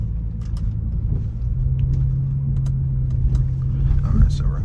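A 2023 Audi S5 Sportback driving over rough, badly surfaced road, with steady low road rumble and engine hum heard from inside the cabin, punctuated by faint thumps and rattles.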